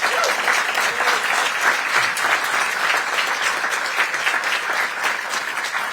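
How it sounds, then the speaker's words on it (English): Sustained applause from an indoor audience at a veterans' event, dense steady clapping filling the whole stretch at even loudness, with no talk over it. "Let's give our veterans a round of applause."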